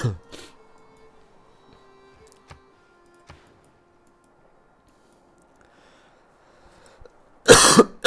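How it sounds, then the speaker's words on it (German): A single burst of coughing comes near the end of a quiet stretch, loud and close against faint room sound, with only a couple of small clicks before it. "Ich sollte mich eigentlich muten beim Husten,"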